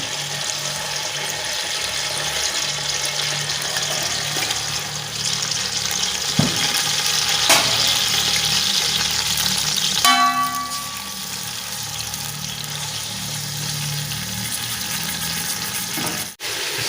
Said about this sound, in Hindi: अभी चिकन फ्राई कर लेते हैं।